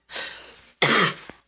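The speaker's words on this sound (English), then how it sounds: "I still have like a cough." Two harsh, close coughs, one after another with a short gap, from a person who still has a cough, the second burst louder than the first.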